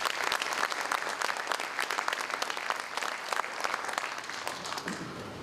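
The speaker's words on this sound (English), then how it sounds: "so give them a round of applause" A crowd at a city state-of-the-city address breaks into sustained applause, brisk overlapping claps at a moderate distance, steady throughout and easing off slightly at the end.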